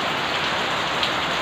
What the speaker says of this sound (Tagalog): Umulan na. Lakas ang ulan ko.